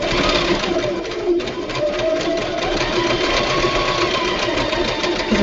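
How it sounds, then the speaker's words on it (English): A sewing machine hums and rattles continuously at a steady pace, close and fairly loud, with no voices. "pay attention to how your sewing machine runs and how it sounds when it's running"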